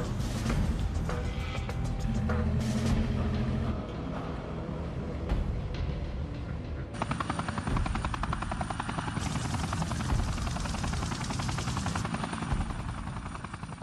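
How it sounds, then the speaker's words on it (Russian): Black Hawk military helicopters flying during a combat operation, a loud continuous rotor chop and engine roar that shifts and intensifies partway through, with no talk. "Вертолеты Black Hawk обеспечивают наблюдение и огневую поддержку."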